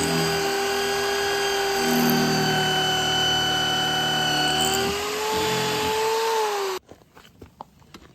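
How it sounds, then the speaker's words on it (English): A power drill whines loudly and steadily for several seconds, its pitch shifting slightly, then cuts off abruptly as the drill bit breaks, leaving scattered small clatters. "Me breaking a drill bit."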